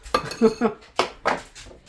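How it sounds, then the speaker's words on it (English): Broccoli is chopped right inside a bowl, with a quick series of close metallic clinks and scrapes as the utensil strikes the dish, in a short busy burst. "this broccoli is kind of big, so I am going to chop this up"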